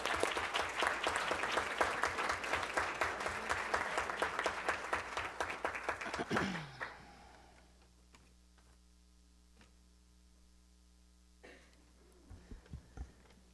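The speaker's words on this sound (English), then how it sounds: "Let's give her a big round of applause." Brisk applause from a modest audience at a school Board of Education meeting, a few close, sharp claps, fading after about six seconds into a quiet room hum with brief rustles.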